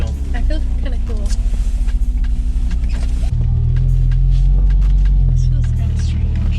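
Audi R8 driven on the road, heard from inside the cabin as a steady engine drone and road rumble that shifts lower and heavier midway, with people talking over it.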